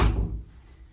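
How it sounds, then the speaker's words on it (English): A metal-framed door with a freshly installed strike plate is swung and shut in a brief test, giving a single dull thunk near the start that fades quickly. "And then I'm just going to test out the door."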